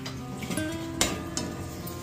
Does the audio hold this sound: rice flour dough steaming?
yes